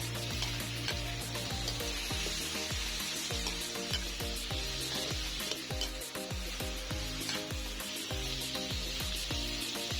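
Bitter gourd and other vegetables sauté with fermented shrimp paste for Filipino mung bean stew, giving a loud, steady sizzle with repeated scraping stirs throughout and no talking.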